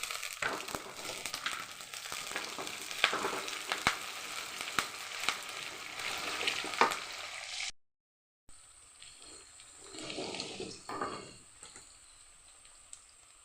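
Green chilies and curry leaves crackle and sizzle loudly in hot oil for a chicken curry, a dense popping hiss that cuts out briefly and then returns softer and steadier.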